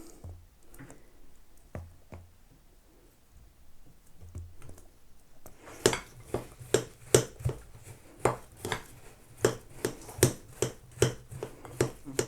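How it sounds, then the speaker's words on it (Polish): A knife chops 300 grams of cold butter into flour on a board for pastry dough. It begins with a few quiet taps, then settles into a steady run of sharp, close chopping strikes. "Trzysta gramów zimnego masła kroimy do mąki."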